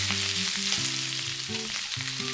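Sliced leeks stir-fry for Japanese yaki udon, giving a constant bright sizzle that stays even and close beneath soft background music.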